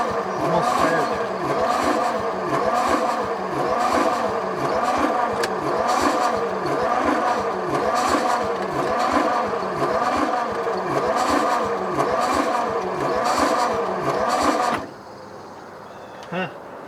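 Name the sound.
Flathead Ford engine cranking, almost starting after 55 years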